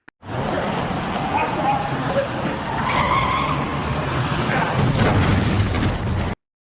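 A car chases and runs down a fleeing Yakuza gang member in a Tokyo street film scene, with a sustained loud rush of tyre skids and engine noise, dense and continuous for several seconds.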